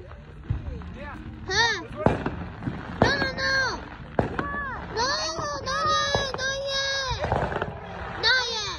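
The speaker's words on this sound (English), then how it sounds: "Ruby, they're just sad fireworks" Small consumer fireworks go off on the Fourth of July: sharp close bangs mixed with rising and falling whistling shrieks, several in quick succession, while children and adults talk and call out nearby.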